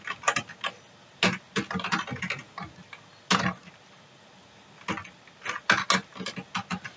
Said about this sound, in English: type your address here